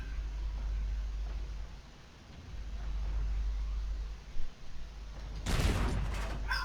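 A single loud tank cannon shot in World of Tanks, fired from a Czech T-34/100 tier 7 medium, bursts out sharply near the end over a steady low engine drone.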